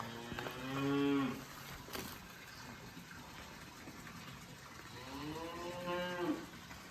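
Charolais beef cattle on a free-range farm: two loud, drawn-out moos from a cow nearby, one at the start and another near the end, with a faint watery gush and a metallic clank between them.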